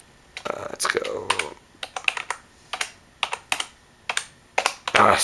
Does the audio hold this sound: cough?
no